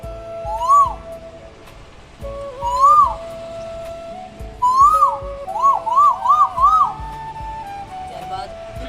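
A man imitates the call of an Asian koel, voicing rising whistled notes: a few spaced single calls, then a quick run of four repeated notes, close and clear over a low murmur of background chatter.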